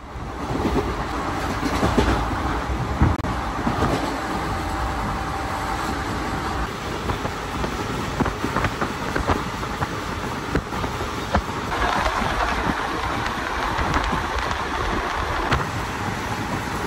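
Passenger train running through the Bardhaman district countryside toward Bolpur, heard from inside the carriage as a continuous loud rumble with steady clickety-clack of wheels over rail joints and a faint high whine, no voices.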